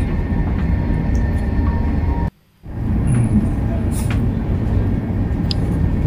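Steady, loud rumble inside a moving double-decker train in southern Spain, with a continuous low clatter. The noise drops out briefly partway through, then resumes unchanged.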